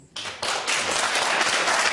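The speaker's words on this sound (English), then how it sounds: "How can you applaud that?" Debate audience breaking into applause, a sudden onset of broad, dense clapping from a crowd that quickly builds and holds steady at moderate loudness, no talk over it.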